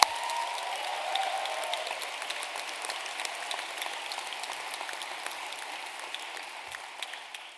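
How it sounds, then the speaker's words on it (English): Steady applause from a large audience at a drama school graduation ceremony, honouring students' parents and carers; dense, even clapping spread across the hall that holds at a fairly constant level throughout. "a round of applause to the parents"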